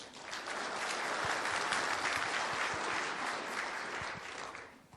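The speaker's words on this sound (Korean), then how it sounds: "저 강의 잘하라고 힘찬 박수 한번 쳐주세요" A lecture audience at a talk on public relations breaks into vigorous applause: dense, continuous clapping that swells quickly, holds full for several seconds, then tapers off at the end.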